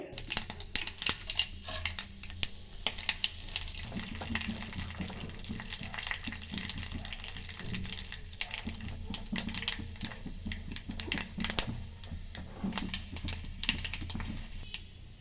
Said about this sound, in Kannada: ಎಣ್ಣೆ ಬಿಸಿ ಆದಮೇಲೆ ಸಾಸಿವೆ ಹಾಕೊತಾ ಇದ್ದೀನಿ ಒಂದೆರಡು ಒಣ ಮೆಣಸಿನ್ಕಾಯಿ ಕರಿಬೇವು ಉದ್ದಿನಬೇಳೆ ಹಾಕೊತಾ ಇದ್ದೀನಿ